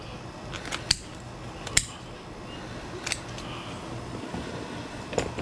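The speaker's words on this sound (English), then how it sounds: "Knocking these bones with the scissors." Scissors knock against redfish and black drum bones during fish cleaning, giving a few sharp, close clicks and taps over a low background rumble.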